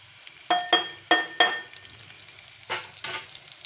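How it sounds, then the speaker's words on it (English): Onion frying in a pan for biryani masala, with a soft sizzle underneath and a few sharp clinks and scrapes of a utensil stirring against the pan, in two short bursts. "And here this onion is frying."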